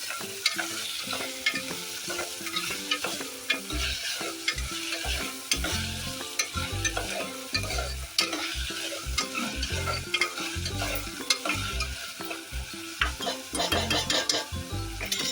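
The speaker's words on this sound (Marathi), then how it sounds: "टोमॅटो चांगला मिक्स करून घेऊया व्यवस्थित" A spoon stirs tomatoes into frying chickpea usal in a pan, with a steady sizzle under repeated scraping, clattering strokes in an uneven rhythm, close and moderately loud.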